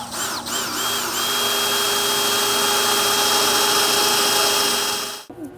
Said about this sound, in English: I drilled both holes